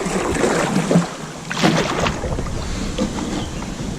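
A small boat is paddled across cold, clear quarry water. Water swishes and splashes softly with each stroke, and steady wind noise buffets the microphone outdoors. No voices are heard.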